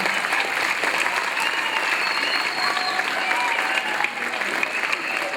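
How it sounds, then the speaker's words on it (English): An audience at a school Christmas celebration applauds children on stage, a dense, steady wash of clapping hands that fills the whole stretch without a break. "Give them a big clap, every single one of them."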